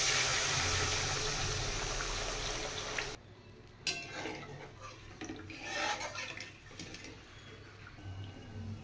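Water poured into a pan of well-fried masala for a paneer curry, a steady broadband rush that cuts off abruptly, followed by bubbling, stirring clatter and faint kitchen noises.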